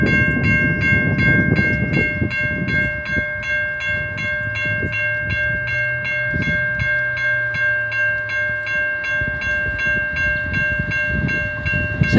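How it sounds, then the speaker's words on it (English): A new Safetran Type 3 electronic railroad crossing bell rings steadily at a crossing with boom gates, its rapid even strikes continuing throughout over a low rumble of a passing train and outdoor noise. "that new Safetran Type 3 bell works"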